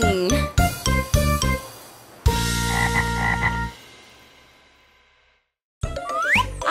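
Cartoon frog croaking in a Brazilian children's musical animation, several loud bright croaks in quick succession, then a sustained jingly tone that fades into silence before more croaks return.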